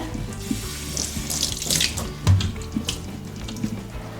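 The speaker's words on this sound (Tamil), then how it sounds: "கடலை மாவு சுற்றிலும் நல்லா கழுவிக்கலாங்க" Tap water runs steadily over a mud pot being scrubbed clean with gram flour, with splashing and occasional knocks of the pot against the sink, close and fairly loud with no talking.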